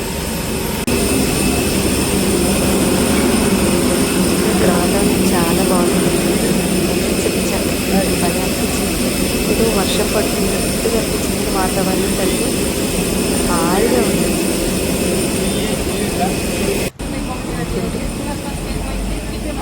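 Loud, steady jet engine roar with a high whine from an airliner on a Vijayawada to Delhi flight, continuous throughout, with faint murmuring voices mixed beneath it.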